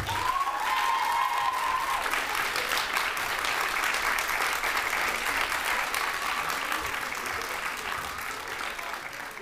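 An eloquence contest final audience applauding, with dense sustained clapping that fills the room and slowly thins, and a brief voice rising over it near the start.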